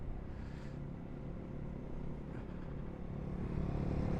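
Small Honda Monkey motorcycles ride along country lanes, heard as a low, distant engine rumble that swells slightly toward the end, with no speech.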